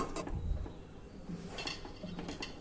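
A metal dal container clinks and scrapes as it is set down inside a pressure cooker in a home kitchen, a few short close clatters of pots and vessels against metal.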